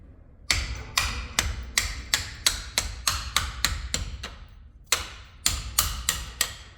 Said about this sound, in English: carefully, gently hammer it out